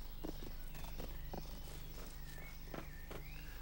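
A horse walking in an animated series, its hooves clip-clopping in an uneven, moderately close rhythm over a soft continuous background.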